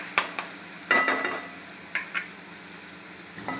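Onions frying in a pan and stirred, with bursts of scraping and clattering spoon strokes over a soft sizzle, several short separate stirs close by, no talking.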